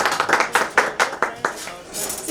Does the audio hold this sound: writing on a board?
no